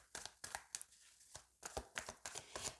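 Cards shuffled by hand before a reading: a quick series of close, crisp riffles and slaps in irregular bursts, fairly quiet, with no talking.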